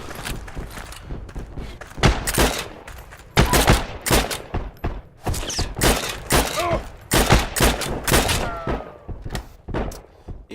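Gunfire in the World War II shooter Heroes and Generals, sharp bursts of shots and thuds coming in irregular volleys, some close and loud, others farther off, with a voice briefly under them.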